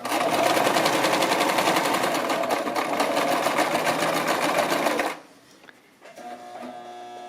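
A Brother LX-3125 sewing machine stitches an apron in a loud, fast, steady mechanical whir for about five seconds, then stops, leaving a quieter motor hum and light clicks.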